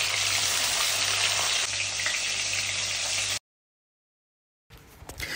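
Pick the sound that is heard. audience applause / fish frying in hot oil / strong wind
fish frying in hot oil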